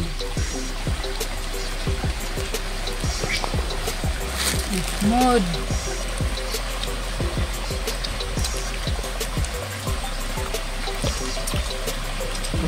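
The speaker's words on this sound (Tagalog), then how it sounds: "Ni kusog ang agos." A small stream flows strongly, a steady close rush and trickle of water running throughout while people talk over it.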